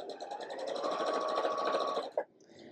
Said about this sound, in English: I'm just going to sew these pieces together.